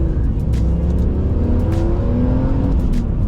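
A freshly restored BMW E46 M3's inline-six rumbles and revs steadily up close, a continuous deep engine note with rising tones throughout and no talk over it.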